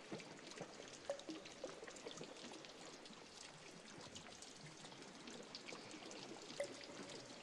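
Soft water dripping and trickling in a quiet cave, a faint continuous watery patter with a few brief clearer drips.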